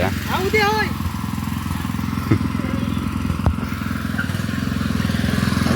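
A tractor engine chugs steadily throughout, with a brief high warbling call near the start and a couple of sharp clanks over the rumble.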